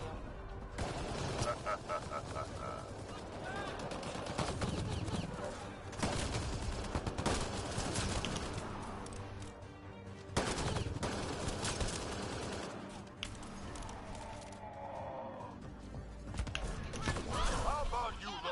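Sustained gunfire from a Mass Effect Andromeda combat scene, dense bursts of automatic weapons fire and overlapping shots with brief lulls, loud and continuous across the battle.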